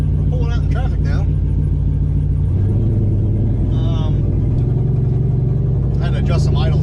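Boosted 4.8 pickup truck pulling out into traffic, its engine rumbling low and steady while it accelerates. Someone talks over it at times.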